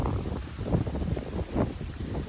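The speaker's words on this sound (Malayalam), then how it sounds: "ഇവിടെ നല്ല കാറ്റുണ്ട്." Wind gusts buffet the microphone at an open scenic spot in Kasaragod, a steady low rumble that swells and eases in soft waves, close and continuous with no voices.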